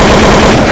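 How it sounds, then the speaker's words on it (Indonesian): Gunfire aimed at a general in a staged school history film about the G30S events, a loud, dense burst of rapid shots that saturates the whole short moment at close range. "Tembak."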